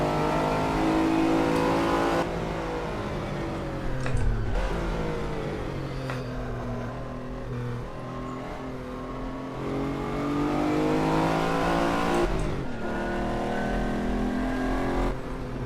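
A Lamborghini Countach V12 in Assetto Corsa screams loudly up through a very tall third gear at Barcelona, its engine note climbing steadily, with sharp breaks at gear changes before it winds up again.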